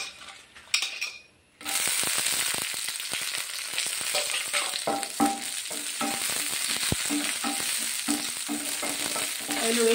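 Dried red chillies fry in leftover oil in a pan for an eggplant chutney, a steady crackling sizzle that starts after a brief quiet opening, with occasional clinks and scrapes of a utensil against the pan.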